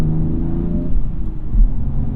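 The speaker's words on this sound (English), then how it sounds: "I don't think the stock exhaust sounds quite so bad" A BMW M2 Competition with the S55 engine and stock exhaust gives a steady, deep rumble at a close, even level, with no talking.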